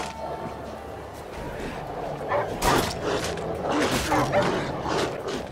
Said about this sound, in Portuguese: Caraca, quanto cachorro juntou agora,